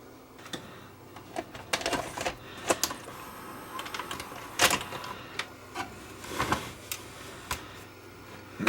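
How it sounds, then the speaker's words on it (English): A JVC HR-A5 VHS VCR loads a tape with a run of clicks, clunks and whirring mechanical movements, one sharp thunk standing out midway, all close and with no voices. "we'll just load a tape"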